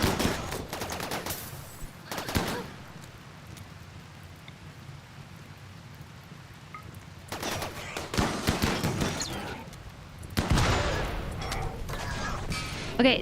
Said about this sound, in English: there go the grenades